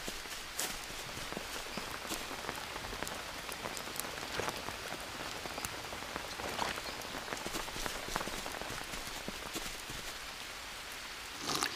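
Steady rain pattering on surfaces in the jungle survival game Green Hell, a dense continuous hiss with scattered drop impacts throughout, close and evenly loud, no voices.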